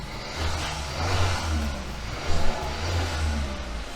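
A Kia K5 engine revved while the car sits stationary, with low throaty surges that rise and fall and a brief louder push midway, plus a faint turbo whine over the engine note.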